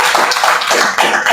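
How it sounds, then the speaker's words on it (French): An audience applauds a performer at a live comedy show: a short, loud, dense burst of many hands clapping together, continuous throughout. "On peut applaudir."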